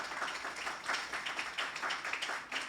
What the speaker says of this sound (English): So I want to put a round of applause together for Nakita West,